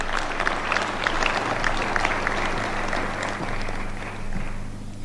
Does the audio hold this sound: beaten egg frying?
no